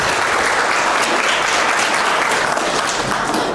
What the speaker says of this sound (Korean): 따뜻한 시선과 큰 박수로 맞이해 주시면 감사하겠습니다